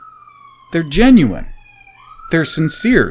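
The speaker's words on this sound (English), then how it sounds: "Sorry about the sirens." Police sirens wail from nearby highway traffic, a steady rising-and-falling tone running through the whole stretch, moderately loud and continuous beneath a man's speech.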